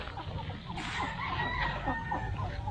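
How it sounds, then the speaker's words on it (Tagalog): Domestic ducks kept as farm animals call in a busy chorus of overlapping quacks and clucking cries, fairly close and steady throughout, over a dense outdoor background. "Madali yung mga alagang itik."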